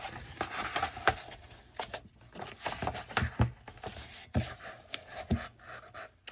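Scissors snip and crinkle through protective paper meant to cover sublimation paper on a 15 oz beveled blue mug, giving close, irregular cuts and rustles with short pauses and no talking.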